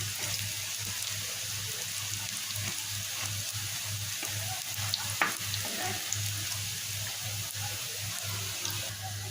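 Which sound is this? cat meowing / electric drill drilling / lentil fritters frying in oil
lentil fritters frying in oil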